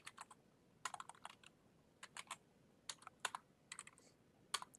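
Quiet, close typing of networking commands on a computer keyboard, with short irregular clusters of crisp key clicks separated by brief pauses.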